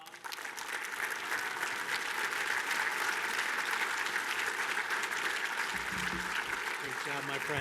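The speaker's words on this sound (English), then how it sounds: "let's give Wink a big round of applause" Sustained applause from an audience at a fellows presentation honoring a presenter, a dense steady clapping that holds for several seconds, with a voice briefly heard near the end.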